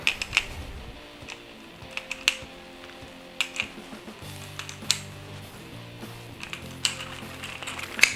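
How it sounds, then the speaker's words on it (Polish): Metal clicks and sharp snaps from a speed loader for a Dan Wesson 715 revolver with a 6-inch barrel, twisting until it clicks and locks; several distinct close clicks are spread over a faint low hum. "przekręcamy aż kliknie i się blokuje"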